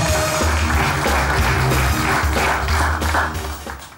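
A studio audience at a Turkish stage comedy show claps loudly as a performer walks on, with a music cue playing under the continuous applause until it fades at the end.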